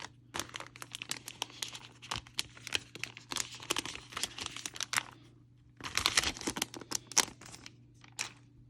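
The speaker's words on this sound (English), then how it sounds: "So let's get this bad boy open or unwrapped" A Microsoft Surface Duo first-generation phone is unwrapped from its packaging, making close, busy crinkling and tearing of plastic wrap in dense bursts with a brief lull partway through, over a low steady hum.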